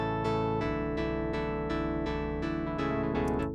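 A synth plays a chord progression with plucky, evenly spaced notes that resolve to a brighter major ending. It sounds clean and steady, with no voices.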